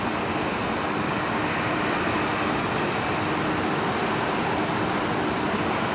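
An aircraft taxiing toward the VIP apron at Brisbane Airport gives a steady, loud, unbroken engine roar and whine that holds constant from start to finish, with no voices.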